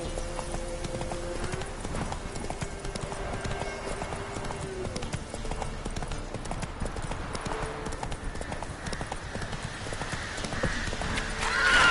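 Horse galloping in the video game The Witcher 3, a steady rapid clip-clop of hooves running continuously at close range over a dense bed of in-game ambience and music, with a brief whinny-like sound.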